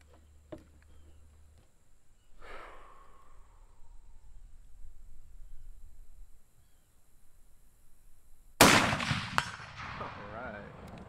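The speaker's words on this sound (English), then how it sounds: "Man, these rounds smack that steel." Mosin Nagant M44 rifle fired at steel targets outdoors: a sharp, loud report near the end with a clanging ring and decay, preceded by quieter rustling and a faint distant pop early on.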